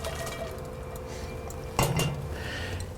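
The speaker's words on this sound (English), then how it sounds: "I've got this pan that I'm going to set right on the accessory rack" A metal pan is set down on the accessory rack of a Kamado Joe grill, giving one sharp, close clank partway through against a steady background hiss.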